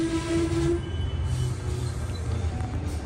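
A Sydney Trains passenger set rolls past with a loud, steady rumble of wheels and carriages, a brief horn tone sounding near the start, with no speech over it.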